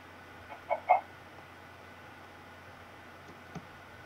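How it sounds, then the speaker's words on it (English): A couple of short clucks from a chicken in the video game Room to Room sound early on over a quiet background hum, followed by a faint click later. "Am I supposed to, like, breed chickens?"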